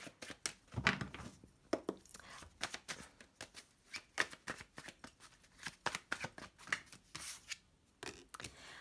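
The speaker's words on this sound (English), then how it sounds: "let me get you more cards first" Tarot cards being shuffled by hand, a quiet run of crisp riffling and slapping bursts in an uneven rhythm, close and alone with no talking.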